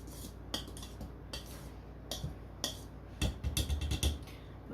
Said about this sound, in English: I'm gonna go ahead and just give it a good stir to incorporate everything.